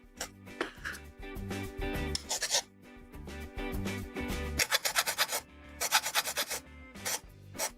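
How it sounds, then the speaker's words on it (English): A small hand file shaves a nub off a curved plastic part from a Bandai Real Grade 1/144 Wing Gundam Zero EW kit. Close, light rasping strokes repeat rhythmically, growing quicker and crisper toward the end. "when you're like removing a nub on a curve, just follow the curve. Like so. Very gently."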